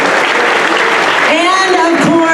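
Audience applause after a mock trauma drill, broad steady clapping filling the clip at fairly loud level, with some voices and cheering-like tones rising in the last second.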